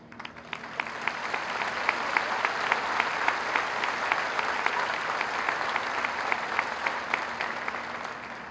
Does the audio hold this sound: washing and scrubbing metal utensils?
no